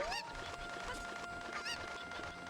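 Cuckoo chickens from the video game The Legend of Zelda: Ocarina of Time make short, quiet clucks over steady game music with a few chirpy sound effects.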